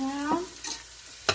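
Celery and carrots fry in a pan for a sofrito while being stirred, giving a brief sizzle with a few scraping strokes, close up and without speech.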